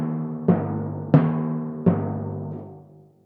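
Three timpani strokes near the edge of the drum, close and moderately loud, each ringing with a clear sustained pitch that lingers and fades after the last hit.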